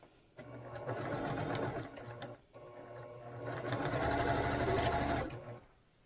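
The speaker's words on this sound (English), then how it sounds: "I'm just going to sew down 1 column at a time" A sewing machine stitches quilt rows together, running in two long steady bursts with a brief pause between and a sharp click near the end, close and loud, alone without talk.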